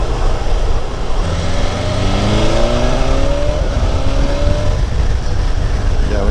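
BMW motorcycle accelerating hard with quick-shifter upshifts, likely an M1000XR or M1000R at a demo ride in Austin, Texas: loud rising engine whine climbing through several quick gear changes over heavy wind roar.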